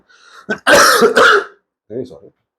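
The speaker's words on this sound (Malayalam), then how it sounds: "ചുമ ഭയങ്കര പ്രശ്നമാണ്, വില്ലൻ ചുമ" A close, harsh burst of coughing and throat clearing, two or three rough blasts in quick succession, followed by a brief softer vocal sound.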